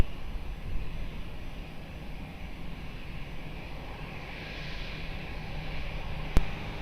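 A passenger airliner takes off from Lisbon Airport, heard as a steady, fairly distant roar of jet engines that holds even throughout, with a short sharp click near the end.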